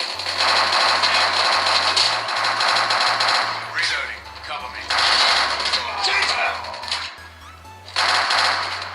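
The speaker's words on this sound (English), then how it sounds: "here's a little bit of gameplay from the S20 Plus" Rapid automatic gunfire from Call of Duty Mobile gameplay on a Galaxy S20 Plus, dense bursts of shots with short breaks, loud and close, over a steady game music bed.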